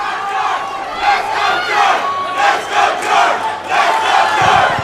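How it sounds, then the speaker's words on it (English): A crowd at a grappling event cheers and chants loudly and continuously, with rhythmic swells of massed voices rising and falling throughout. "So you can tell the crowd's here going for Carrasco."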